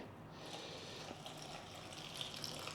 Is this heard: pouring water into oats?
yes